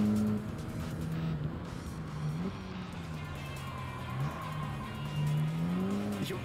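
Renault Clio racing car braking hard in Gran Turismo 7, with a tonal engine note that dips and wavers alongside tire squeal, steady and fairly loud throughout with no one talking.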